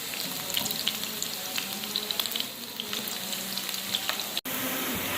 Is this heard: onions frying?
yes